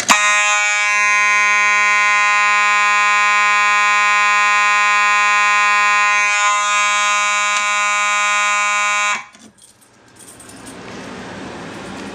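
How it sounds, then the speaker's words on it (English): A loud, steady electronic fire alarm tone, set off by pulling a T-bar pull station, blares continuously for about nine seconds, then cuts off abruptly, leaving faint room noise. "So now we're going to pull the T-bar and watch this alarm go off."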